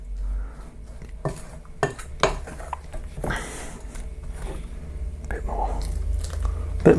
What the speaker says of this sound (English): So you just want to stir in that until it all starts to come together